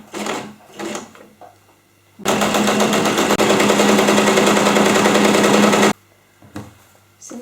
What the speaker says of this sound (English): I'm going to fold my loop and sew the loop first,